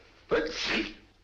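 A single close, loud sneeze with a sharp inhale then a breathy burst that fades quickly.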